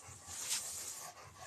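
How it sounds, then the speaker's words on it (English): Close, rhythmic heavy panting from a dog, a fast breathy huff repeating several times in a quiet room. "the aggressively panting dog"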